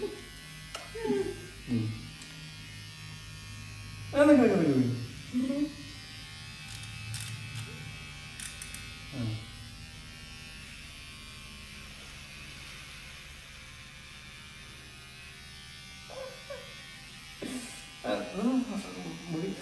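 An electric shaver buzzes steadily while trimming a man's hair at home, a continuous close hum that rises and falls slightly as it moves, with people talking over it at intervals.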